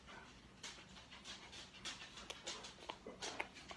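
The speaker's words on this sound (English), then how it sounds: "I got a dog getting ready to bark." A dog pants quickly and softly nearby in a quiet room, the breathy bursts growing more insistent with a faint whimper now and then.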